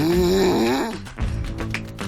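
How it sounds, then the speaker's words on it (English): A sleeper snores loudly and close by, with a rough rattling inhale followed by softer breathy snorts. "From common complaints like snoring"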